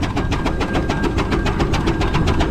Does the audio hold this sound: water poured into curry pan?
no